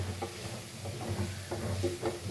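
Spoon scraping and pushing cabbage foogath around in a pan, several soft irregular stirring strokes over a low hum, quiet and close.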